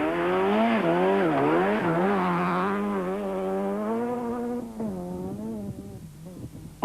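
A little Fiat Uno rally car thrown hard through bends on a 1993 rally stage, its engine loud and close, pitch swooping up and down with each gear and throttle change, then easing lower near the end.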